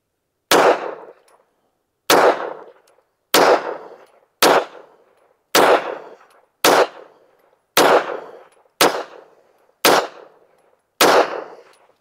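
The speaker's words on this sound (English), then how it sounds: "Let's shoot a group at the bottom right target." Ten sharp, loud pistol shots from a Girsan MC P35 OPS aimed at a target, each cracking close by, spaced about a second apart in a steady rhythm, with brief decay between them.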